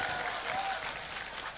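An audience at an Islamic religious gathering applauds a singer, a steady wash of clapping that stays fairly even and close throughout the short stretch, with a faint murmur of voices underneath.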